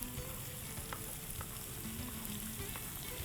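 Vegetables stir-frying for Schezwan fried rice, a continuous loud sizzle with faint scraping and stirring clicks throughout, no talk.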